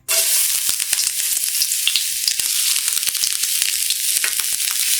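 Ginger and garlic fry in hot coconut oil for prawn chopsuey, a bright, steady, close sizzle with crackling pops and occasional stirring.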